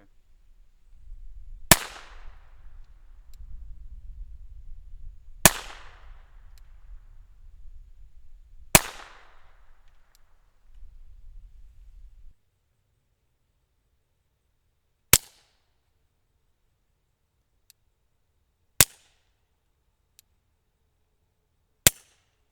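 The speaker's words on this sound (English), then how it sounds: "A little bit louder out of the pistol, mostly because of the sound of the bolts. Still had a good tone of the shot" Suppressed .22 Long Rifle shots from a pistol through a Tactical Solutions rimfire suppressor: six sharp, close cracks a few seconds apart, with a low rumble beneath the first three that drops away before the last three.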